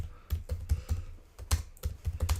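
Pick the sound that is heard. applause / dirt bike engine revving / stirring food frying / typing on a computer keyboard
typing on a computer keyboard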